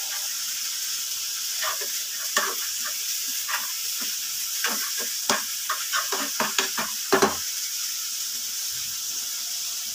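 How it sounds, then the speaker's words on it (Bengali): Green chillies fry in a pan for a scrambled egg dish, a constant hiss of hot oil under a spatula scraping and stirring in a cluster of short, close strokes before it settles back to sizzle. "কাঁচামরিচ দিয়েও আমি কিছুটা নেড়ে চেড়ে নিচ্ছি।"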